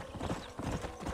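Rhythmic hoofbeats of a horse galloping in Red Dead Redemption on the Switch, a steady clip-clop pattern, close and fairly quiet with no talking.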